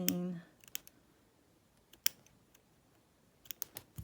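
Scissors snipping apart a crochet doily, with a few sharp, faint cuts scattered over a few seconds after a brief bit of speech at the start, close and quiet.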